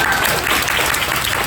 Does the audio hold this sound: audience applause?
yes